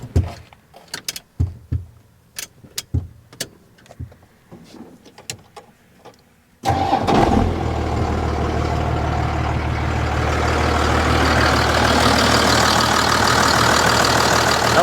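A 1986 Ford diesel truck engine idles steadily and loudly after about six seconds of scattered knocks and handling sounds, a continuous low rumble with a rough, even texture that carries on to the end.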